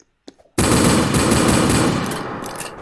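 Loud, continuous automatic gunfire in the Roblox video game, a sustained burst of rapid shots that starts abruptly after a brief quiet moment and carries on to the end.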